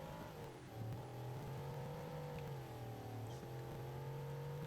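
A rear-wheel-drive car in BeamNG.drive, stuck in sand, revs its engine in a loud, steady drone that rises and dips slightly as the wheels fail to find grip.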